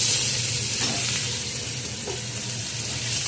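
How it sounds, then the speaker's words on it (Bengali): Onion fries in oil in a pan while being stirred, a close continuous sizzle with scraping stirs and a low hum beneath, no voices. "লাল করে পেঁয়াজটা ভাজা হবে একটু"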